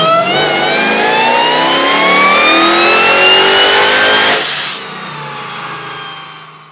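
A 1000 wheel horsepower Jeep Trackhawk engine revving hard, a loud close rising whine and roar that climbs steadily for several seconds, then drops sharply as the throttle is released.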